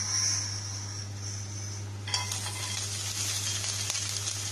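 Ingredients frying in a pan until light brown, with a steady close sizzle and crackle that grows brighter as more food goes in, plus a faint clink of a utensil under a low hum.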